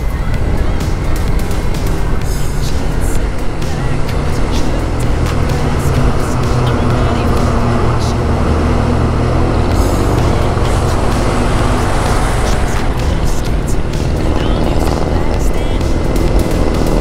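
A Honda PCX scooter rides along the Marilaque Highway among trucks, giving a loud, constant roar of wind and traffic rumble with heavy vehicles close by and no pauses.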